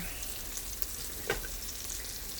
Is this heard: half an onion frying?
yes